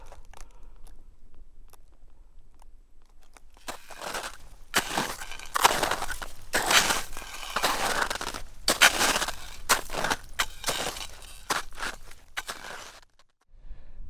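Crampons crunch and scrape on snow and ice while climbing Mount Hood, a steady run of close, crisp footsteps that starts after a quiet lead-in and stops near the end.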